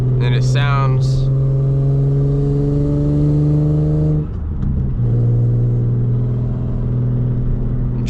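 An Infiniti G37 with a six-speed manual and its stock Y-pipe exhaust revs, giving a loud, close, raspy droning roar with strong steady tones. The roar holds for several seconds, dips briefly midway, then settles back into a sustained drone.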